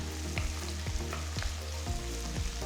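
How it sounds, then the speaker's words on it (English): Two large finely chopped onions sauté with whole spices such as anise in a pan, giving a soft continuous sizzle with a few gentle stirring scrapes over a low background hum and no talking. "Next, I'm adding 2 large onions finely chopped. Let the onions cook well for about 2 minutes."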